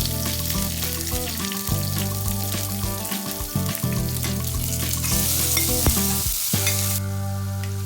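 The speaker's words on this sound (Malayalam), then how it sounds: "അതിൻ്റെ കൂടെ സവാളയും ഇട്ട് വഴറ്റാം." Sliced onion sautéing in hot oil with chopped green chilies and curry leaves for beetroot pachadi, a continuous loud sizzle with occasional stirring scrapes close by.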